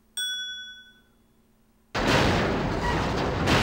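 Planted bombs exploding in a remake of the Famicom game Elevator Action, a short ringing chime followed by a loud, dense blast of noise that roars on steadily to the end.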